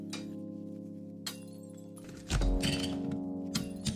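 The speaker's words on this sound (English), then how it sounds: "Tapping the wall in some areas made the tiles just fall off without even having to pry them off." Loose ceramic wall tiles in an abandoned Japanese house knock and clatter as they drop off after the wall is tapped, with a thud near the midpoint followed by scattered clinks and cracks.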